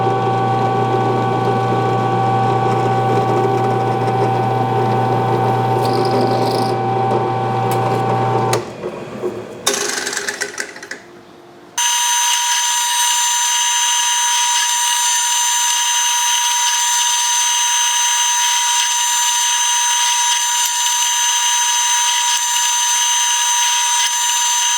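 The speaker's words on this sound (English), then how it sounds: "Now we'll head over to the drill press and get those drilled." A steady mechanical motor drone runs, breaks off briefly with clunks and handling noise, then a brighter high-pitched machine whine continues loudly to the end as a drill press drills metal.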